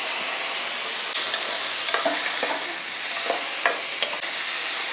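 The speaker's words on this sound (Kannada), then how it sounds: "ಈಗ ಒಂದು ಟೊಮೆಟೊ ಹುರಿಯೋಕ್ಕೆ ಹಾಕೋತಾ ಇದ್ದೀನಿ ಮಸಾಲೆ ಹುರಿಯೋಕ್ಕೆ" Tomato frying with masala in a pan for bottle gourd kootu: steady loud sizzle throughout, close up, with occasional spatula scrapes and stirring clicks and no voices.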